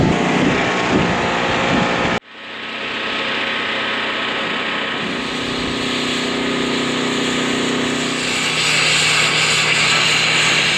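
A loud power tool cuts through scrap metal with a harsh continuous grinding whine, briefly cut off after about two seconds, then starting again and running steadily to the end with no talk.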